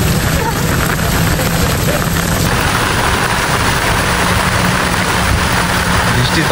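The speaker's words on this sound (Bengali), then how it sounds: "বৃষ্টির পানিগুলো যেভাবে আসতেছে রকেটের মতো" Heavy rain pours down near a large manmade lake, a loud, dense, unbroken hiss of water that fills the scene evenly from start to finish.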